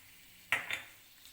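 Two small cloves of finely chopped garlic drop into hot oil in a kadai, giving a sudden close sizzle that crackles briefly and fades into a soft hiss, with no voices.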